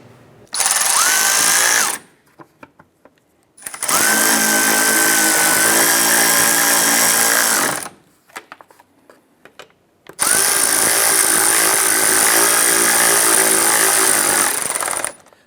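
A power tool drives the three screws holding the upper bumper filler panel on a 2011-2018 Ram 1500, three loud whirring runs of a few seconds each, separated by short quiet gaps.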